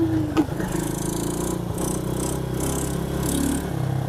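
A 125 cc diesel automatic ATV engine runs close by with a steady, rattly drone and a throttle blip near the start, holding a continuous rough rumble to the end.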